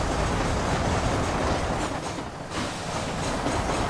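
A moving train in the video game Red Dead Redemption, a dense continuous rumble and rattle of wheels on rails, loud and steady throughout.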